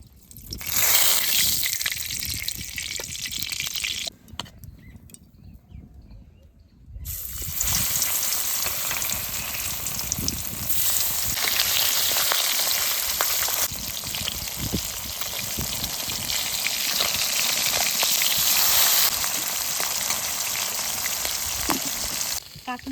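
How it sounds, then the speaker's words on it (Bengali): Fish coated in salt and turmeric fries in hot mustard oil in a wok, giving a loud, continuous close sizzle that drops briefly to a quieter hiss before surging back and crackling on steadily. "কড়াই গরম হয়ে গেছে সর্ষের তেল দিয়ে দেবো"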